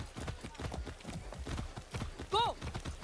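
A horse in the Far Cry 6 video game trots with quick, even clip-clopping hooves, and a short whinny rises near the end while someone talks over the steady hoofbeats.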